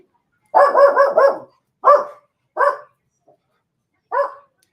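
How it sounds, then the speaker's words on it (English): Several dogs bark in a neighbourhood, a quick run of four overlapping barks followed by three single barks spaced apart, fairly close and clear with no talk. "all the dogs in the area go flying up the road"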